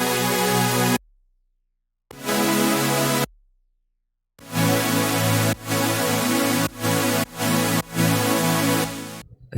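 Layered saw-wave synth leads in a melodic dubstep remix produced in FL Studio, heard dry without effects: bright buzzy chords that cut off into sudden silences, then return in short choppy stabs, loud and close with no voice.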